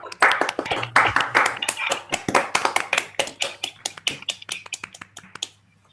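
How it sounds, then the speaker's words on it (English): Scattered audience applause after a talk at an astronomy conference on quasars, a fairly close group of individual claps that starts dense and thins into sparser, irregular claps over several seconds. "I will allow people to applause while we're waiting for questions"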